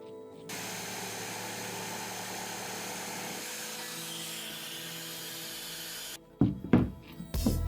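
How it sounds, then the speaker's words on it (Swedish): A power saw cuts through a sheet of plywood in a steady, loud, continuous run of about six seconds. It stops abruptly, and a few short knocks and handling thumps follow. "lägga den där på en plyfa och såga ut 2 stycken ex av den"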